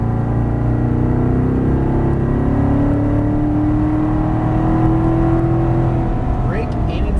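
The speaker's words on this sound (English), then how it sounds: "squeezing on the gas. A little bit more, squeezing it on as you unwind the wheel" A Chevrolet Corvette Stingray engine pulls hard down a track straightaway, its pitch climbing steadily in one long continuous acceleration, loud and close throughout.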